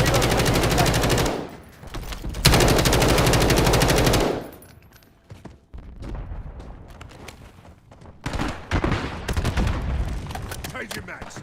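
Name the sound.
gunfire in Call of Duty: Warzone video game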